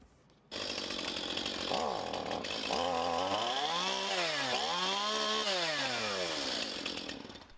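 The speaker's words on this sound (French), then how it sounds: "Ces tronçonneuses serviront à découper les troncs d'arbres repérés la veille" Chainsaws being checked before felling work on tree trunks, a loud close engine roar that revs up and down in repeated rising and falling sweeps, running steadily for several seconds before cutting off.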